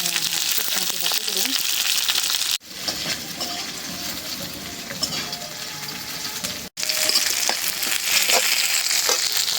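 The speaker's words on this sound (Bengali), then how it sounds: "এই শুটকি মাছের সব কিছু পেঁয়াজ, মরিচ, রসুন সব ভাইজা নিব।" Onion, chili and garlic frying together in oil for a dried-fish mash, a loud continuous sizzle and crackle that holds steady throughout, broken by two brief cuts.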